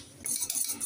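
A spoon scrapes and stirs through semolina caramel pudding mixture with milk in a metal pot, a short burst of close, bright scraping strokes with no voices.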